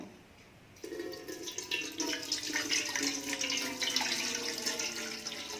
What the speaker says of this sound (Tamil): இப்போ நம்ம வேறு பாத்திரத்தில் வடிகட்டிக்கலாம்